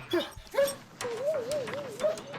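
A herding dog whines and yips in rising, wavering cries that come in several bursts, close and moderately loud, with no talk.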